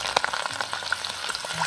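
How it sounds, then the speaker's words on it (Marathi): Slit green chillies frying in hot oil for an outdoor bread pakora meal give a dense, crackling sizzle with quick pops and spatters, close and continuous through the short stretch, no talking. "मिरच्या तळून झालेल्या आहेत."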